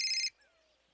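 A mobile phone ringtone plays a brief, bright electronic burst that cuts off abruptly, followed by near silence with faint background sound.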